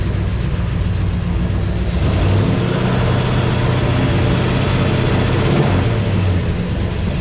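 A 1956 Chevrolet Bel Air engine running on the fast idle cam, a steady, loud, rumbling idle held without pause through the whole stretch.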